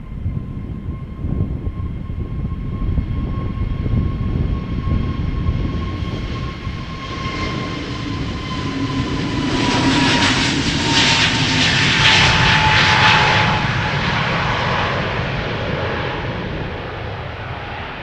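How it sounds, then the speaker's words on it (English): A two-year-old Airbus A321neo jet departs Amsterdam Schiphol for Istanbul, its engine roar loud and close, swelling to a broad peak mid-clip with a fading whine before easing off. "A321neo to Istanbul"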